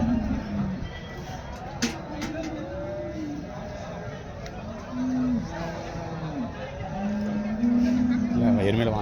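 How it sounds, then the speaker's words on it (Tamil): Buffaloes at a cattle market, with deep, drawn-out moos rising and falling several times against a busy background murmur of people talking nearby. "இது சன் எருமை தாங்க."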